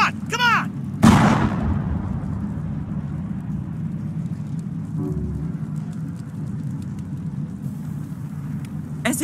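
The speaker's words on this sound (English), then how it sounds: "Now we're shooting each other in the back." Gunfire in the video game Mass Effect: a single sharp, loud shot near the start over a steady low rumble, with little else standing out afterward.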